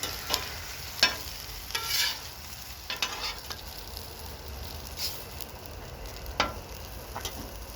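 Sun-dried tomato pesto being stirred into cheesy mushroom tortellini on a hot outdoor griddle at night: a steady close sizzle with intermittent scraping and clacking strokes of a utensil.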